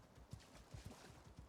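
Faint horse hooves clop in the survival game Icarus, soft, evenly spaced thuds of a few steps at a walking pace, quiet and alone.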